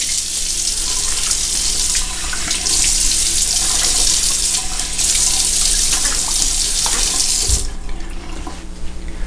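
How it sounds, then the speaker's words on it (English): Cold water runs steadily from a bathroom tap into a sink while shave gel is rinsed off a face, a close continuous splashing hiss with brief changes as hands pass through the stream. "you can rinse it off with cold water"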